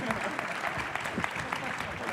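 Audience applause at a CEO panel discussion during a talent forum, a steady wash of clapping that fills the whole stretch at moderate loudness with no speech over it.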